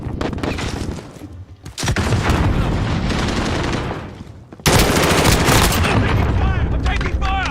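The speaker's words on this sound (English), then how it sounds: "I'm taking fire!" Gunfire in a multiplayer video game shooter, dense rapid automatic bursts and booms that nearly fill the clip with brief lulls between, loud and close, with voices calling out beneath.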